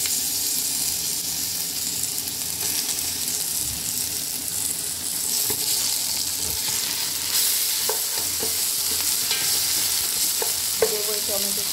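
Ginger garlic paste frying with browned onions in a pot for Bengali-style khichuri, with a steady close sizzle under occasional scraping and stirring clinks of a utensil, and no talking.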